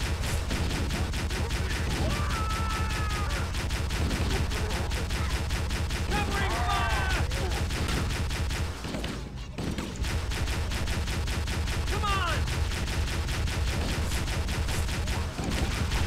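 Sustained automatic gunfire from the video game Halo: Combat Evolved rattles on without pause, loud and continuous, with brief chirping effects and a short gap partway through.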